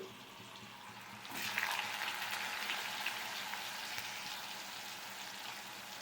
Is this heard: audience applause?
no